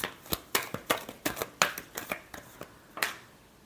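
Tarot cards are shuffled by hand in a quick run of about a dozen sharp riffling bursts, close and crisp, with brief pauses between them and no voices.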